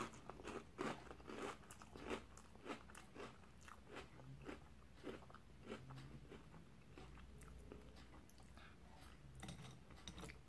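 Close, steady crunching and chewing of a sweetened Christmas cereal with marshmallow pieces, repeated bites and mastication filling the whole stretch at low volume.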